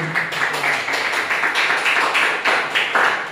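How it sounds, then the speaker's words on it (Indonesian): An audience claps for the second speaker at a civic education class session. The applause is steady and moderately loud, with no talk over it. "Aplaus buat narasumber 2"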